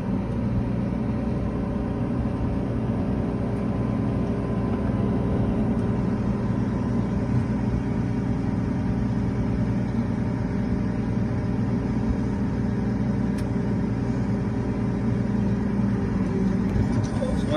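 A tractor backs up while pulling Bourgault XR harrows, giving a steady, continuous engine rumble close by with no clear changes in pitch or level throughout.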